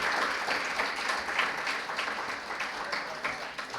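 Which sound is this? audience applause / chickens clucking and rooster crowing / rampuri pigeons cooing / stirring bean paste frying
audience applause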